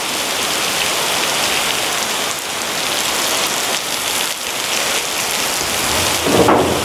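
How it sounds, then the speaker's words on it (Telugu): Heavy rain with thunder pours down in Nanning, China: a loud, unbroken roar of rain hitting surfaces that lasts throughout, with a low rumble underneath and no talk. "వర్షం నాకు తెలిసి అప్పుడల్లా తగ్గేటట్టు లేదు."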